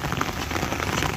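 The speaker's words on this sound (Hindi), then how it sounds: "बारिश कंटिन्यू हो रही है" Steady, continuous rain falls in the misty Uttarakhand mountains near Pithoragarh, a dense even patter of drops on surfaces with no talking.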